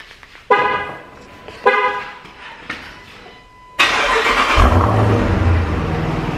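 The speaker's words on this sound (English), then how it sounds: "I'm gonna turn my car on." A Dodge Trackhawk, left unstarted for about three weeks, is cranked in a few short bursts before the engine catches and roars into a loud, steady idle close by, with no talk.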